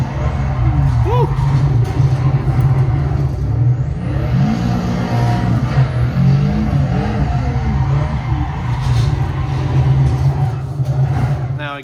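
Video game car driving on photogrammetry mountain roads of the Santa Monica Mountains in Assetto Corsa, a steady loud engine drone with shifting pitch throughout, talk over it at times.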